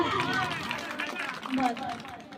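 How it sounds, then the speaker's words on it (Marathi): Audience applause at an Ambedkar Jayanti gathering: a dense, steady wash of clapping from a large crowd, continuous for the whole stretch, with voices and cheering mixed through it. "वाजवा मग टाळ्या."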